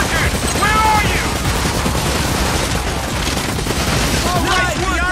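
Dense bursts of automatic gunfire in the arcade shooter Time Crisis Razing Storm, loud and continuous rattling volleys filling the whole stretch, with shouted game voices over them.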